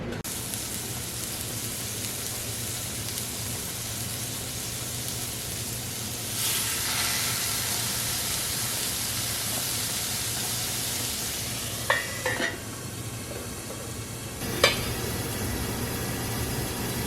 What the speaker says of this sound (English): Okay, they're starting to steam.